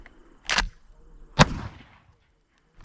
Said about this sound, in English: So you can shoot it like a regular shotgun.